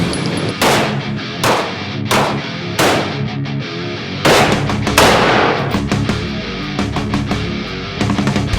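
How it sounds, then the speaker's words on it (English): Gunshots crack repeatedly at an outdoor shooting range, loud overlapping reports from several firearms in an irregular sequence, some rapid and some spaced, with no talking. "We're going to do probably the most American thing you can do and shoot some fucking guns."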